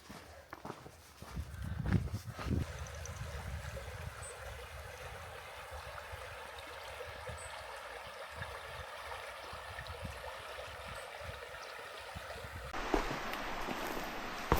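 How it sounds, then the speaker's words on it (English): A peaceful river flows steadily beside a bluebell and fern forest path, a soft continuous wash heard close, with footsteps crunching near the start and a brief louder rustle at the end. "Just walking through this bluebell and fern forest glade by the side of a peaceful river."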